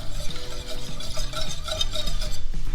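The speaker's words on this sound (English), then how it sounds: "add our soy sauce, and our sugar. We're gonna whisk it up" Soy sauce and sugar are whisked in a small pot on the stove, making a quick, rhythmic scraping and swishing close up, with no one talking.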